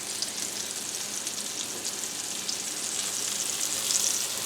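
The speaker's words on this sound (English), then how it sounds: "I'm just going to put this in there, and we're going to let it sear" Beef roast searing in hot grease in an electric skillet, a steady, close, loud sizzle that holds without pause from start to finish.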